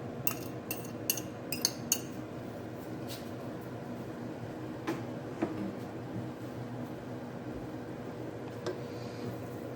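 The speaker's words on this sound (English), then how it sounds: "So I'm going to give it a stir." A spoon scrapes and clinks against a pan while shrimp and peas are stirred into a chicken and shrimp paella, with a run of quick metallic taps early and scattered soft clinks over a steady background hum.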